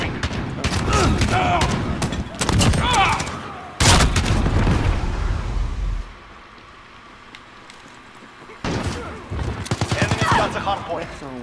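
Rapid gunfire bursts from the online shooter game Modern Warfare, loud and close, broken by a near-silent pause, with game voice callouts and a player talking over the shooting.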